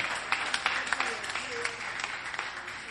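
Audience clapping at a school International Mother Language Day celebration at Messiah High School in Akure, a steady patter of many hands with sharper individual claps standing out, moderately loud and continuous throughout.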